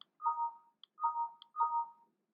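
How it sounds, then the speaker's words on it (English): A stock scanner alert notification plays three times in quick succession, each a short bright electronic chime-like tone, clear and alone against silence. "we actually have an alert that is going to notify us whenever a stock is popping up on this scanner, and that's going to sound like this"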